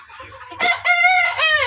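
Deshi chickens on a farm give a few short close clucks and drawn-out squawking calls, loud and clear with no talk.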